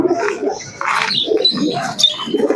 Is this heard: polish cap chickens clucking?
no